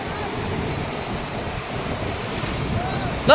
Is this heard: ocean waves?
yes